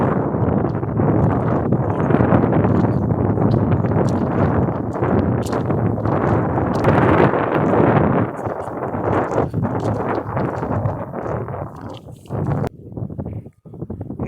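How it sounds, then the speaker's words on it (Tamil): Strong wind gusts across open paddy fields being sprayed with pesticide, a loud, continuous rushing roar that buffets the microphone and eases slightly toward the end. "காற்று பிச்சு அடிக்குது மக்களே."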